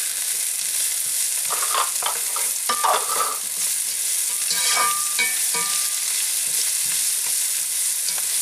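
Vegetables sweat in a pan with spring onions and ndembi, giving a constant loud hiss. Scattered clinks and scrapes of stirring sit on top of the sizzle.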